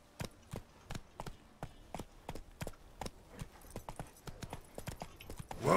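Roach, a horse in The Witcher 3, clip-clops along with crisp, evenly spaced hoofbeats in a brisk repeating rhythm, close and clear over quiet game ambience, with a louder burst at the end.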